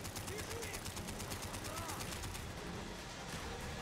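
Machine-gun fire in Call of Duty: Black Ops: a steady, rapid, dense stream of shots lasting the whole moment, loud and continuous with little variation.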